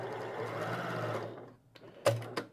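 A Janome HD-9 sewing machine runs with its main thread tension loosened almost to zero, whirring steadily at close range for over a second before stopping, followed by a couple of brief clicks and taps.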